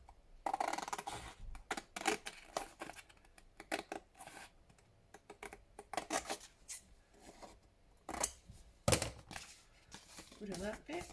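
Scissors snip through wallpaper in a run of short, irregular cuts and rustles, close and quiet, with a person talking softly between strokes.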